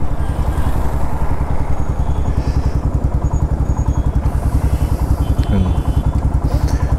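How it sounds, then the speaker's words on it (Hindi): A motorcycle engine idles nearby with a rapid, even thumping beat and mechanical clatter, while someone speaks over it and traffic passes in the background. "सिक्सटी सेकेंड्स ही है, बंद कर दो बाइक।"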